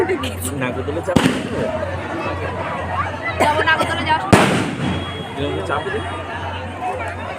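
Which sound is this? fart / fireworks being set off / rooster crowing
fireworks being set off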